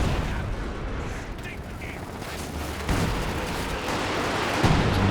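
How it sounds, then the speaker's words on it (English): Werfer rocket artillery strike in Company of Heroes 2, a dense rumble of overlapping blasts and gunfire with heavier impacts near three and five seconds, under a busy battle mix. "There's another Werfer strike"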